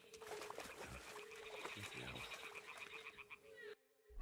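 Toads croak at a breeding nest in Kingdom Come: Deliverance II, a dense chorus of ribbiting calls with a trickle of water, continuing for several seconds before cutting out abruptly.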